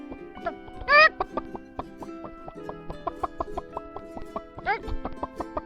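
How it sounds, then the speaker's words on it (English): A hen on a farm clucks in a steady run of short, close clucks, broken by two louder, drawn-out squawks near the start and toward the end. "What sound does a hen make?"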